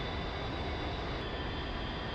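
An A-10C Warthog's jet engines in level flight under autopilot at about 230-240 knots in DCS World, a steady, loud broadband roar with no variation.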